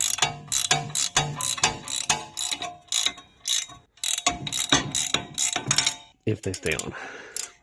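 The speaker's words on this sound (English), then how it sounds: "you have to put pressure down on it while you tighten this nut" Metallic ratcheting on a nut being tightened while installing a lift kit on a Chevy Silverado 1500 truck, rapid clicking bursts in repeated runs, close and fairly loud, with a brief spoken remark.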